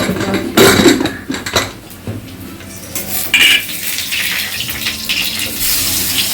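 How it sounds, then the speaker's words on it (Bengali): Bora fritters frying in a pan being stirred, with loud clattering knocks of a utensil against the pan over a continuous sizzle, no voices. "চলো বড়াটা একটু নেড়ে দিই"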